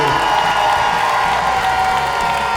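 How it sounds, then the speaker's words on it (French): A crowd applauding and cheering at the Paris Games Week national final, dense sustained clapping with whoops filling the whole moment, loud and close. "gardez un dernier applaudissement, un tout dernier, parce qu'il le mérite"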